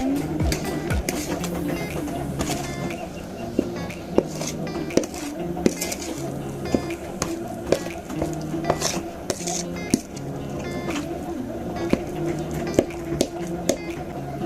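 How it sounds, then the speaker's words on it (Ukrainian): Sour cream being stirred into a truffle mixture in a bowl gives a continuous clatter of utensil against dish, with regular clinks and scrapes close up and no talk. "Тепер додаємо сметану. Перемішуємо."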